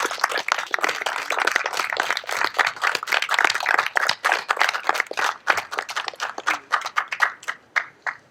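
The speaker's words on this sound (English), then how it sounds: "Turn to them an applause" Clapping from a graduation ceremony audience rises as a busy, sustained patter of many hands, then thins toward the end into a few scattered, distinct claps.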